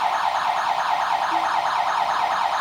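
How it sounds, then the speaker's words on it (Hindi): A home security alarm siren triggered at a door wails continuously and loudly with a rapid warbling sweep, close by and alone. "ये सायरन बज चुका है और साथ में मेरे फोन पर कॉल भी आएगा।"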